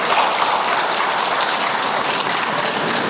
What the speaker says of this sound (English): Please give him a round of applause as he walks to the podium.